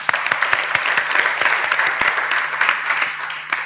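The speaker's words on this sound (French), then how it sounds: "On vous applaudit également." Lively clapping from an audience at a heritage technology conference, close and continuous with sharp individual claps standing out over a few seconds.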